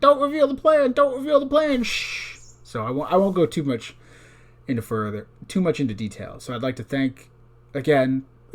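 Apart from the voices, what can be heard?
No everyday noise stands out behind the speech.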